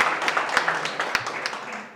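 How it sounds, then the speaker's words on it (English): A short round of applause follows at a Minnesota swearing-in ceremony for Somali American legislators, a few seconds of scattered clapping that fades out quickly. "So please make a round of applause for the best Speaker of the House"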